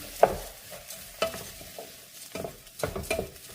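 Corn, zucchini, tomato and a crumbled chicken bouillon cube are stirred in a pot, giving a few scraping, clattering strokes of a utensil over a soft sizzle, close and without talk.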